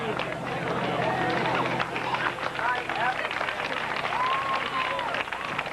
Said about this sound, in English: We ask for one more round of applause to support the homecoming dance